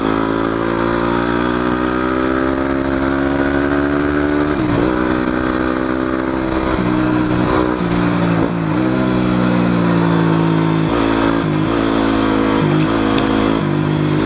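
A small WR motorcycle engine hums steadily at close range while riding, its pitch rising and dipping with gear changes and throttle, with wind rushing past the whole time.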